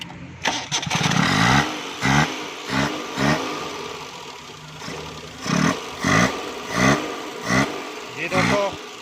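A car with no fuel pump fed petrol by hand is cranked by its starter in repeated bursts, about seven or eight short chugging pulses over several seconds, with a voice talking over part of it.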